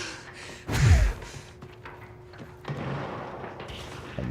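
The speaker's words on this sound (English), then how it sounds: "I have no idea who just shot at me" A single sharp gunshot in a video game cracks loudly near the start, then fades into a quieter ambient bed with a smaller burst of noise a couple of seconds later.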